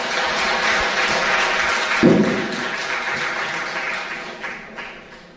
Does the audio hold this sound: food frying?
no